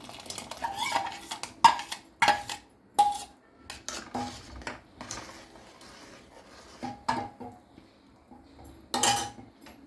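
Toor dal and chana dal, ground and rinsed, go into a pot of simmering tamarind broth for sambar; spoons and the metal pot clink and scrape in short, scattered bursts, close by, with no talking.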